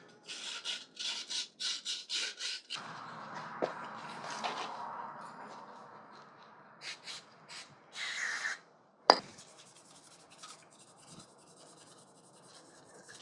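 Wet sanding a rusty edge on a motorcycle front fork part by hand with 1000 grit sandpaper, rhythmic rasping strokes near and quiet, with bursts of rubbing and pauses between.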